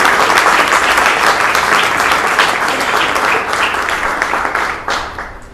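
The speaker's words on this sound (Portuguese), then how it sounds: "Aplauda o nome do Senhor" Congregation applauding during a church sermon, a dense, loud wash of clapping from many hands that holds steady and then tapers off near the end.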